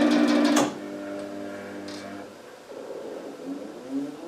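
An automated band saw system's motor whines briefly and cuts off with a clunk, then quieter mechanical hum and clicks follow as the index wheel advances, heard close and moderately loud.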